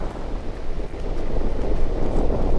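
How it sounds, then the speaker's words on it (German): Strong wind gusting in Fallout New Vegas, a loud, dense, rumbling roar that swells steadily, with no talking. "Ich hätte nicht gedacht, dass das so windig ist."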